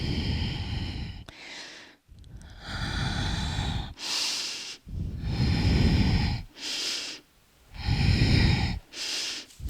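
Deep, slow breaths during a shoulder mobility stretching routine, with steady inhales and exhales repeating in a clear rhythm, close and audible, with no talking.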